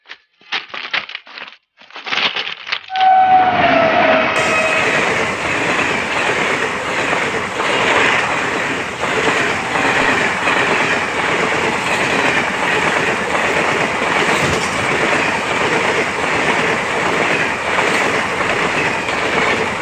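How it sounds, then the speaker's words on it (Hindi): A train rolls past close by in a loud, steady rush of rattling wheels and rail clatter, beginning after a few seconds of scattered clicks and continuing to the end. "ट्रेन आवत बा"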